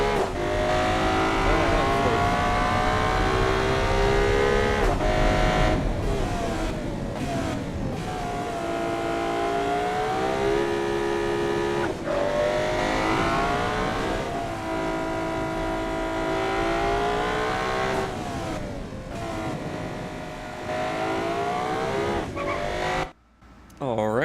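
A race car in the game Automation keeps spinning its wheels, with a loud engine revving up and down in repeated sweeping pitch climbs, up close and continuous, cutting off at the very end, while someone speaks over it.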